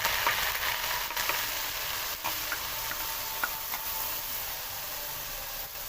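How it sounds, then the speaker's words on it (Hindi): Ground onion fries in a pot for an aloo gosht curry, giving a dense, even sizzle that fills the clip, broken only by faint occasional ticks of stirring; no talk. "बस इस तरीके से हम प्याज को अच्छी इसकी बुनाई करेंगे।"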